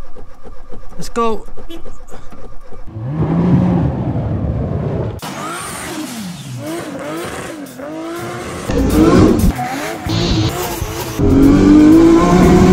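An abandoned 1989 Volvo 480 engine cranks and turns over after eight years, rumbling and revving up, while someone talks excitedly over it nearby.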